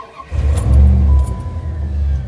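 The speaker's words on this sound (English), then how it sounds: "I can fire the thing up for you guys" A 1995 Dodge Ram V8 fitted with Thrush welded mufflers fires up and settles into a loud, deep, grumbly idle close by, with a brief rev at the start.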